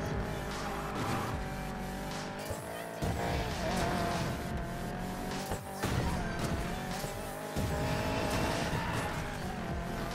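BMW cars race in Need for Speed Payback, engines roaring and revving without a break while tires squeal and skid through corners, loud and close.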